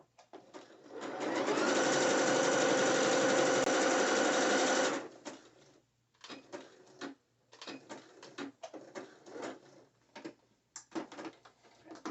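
A sewing machine runs in a steady, loud whir for about five seconds, stitching braided elastic onto net bikini fabric; afterwards come short, irregular clicks and handling noises.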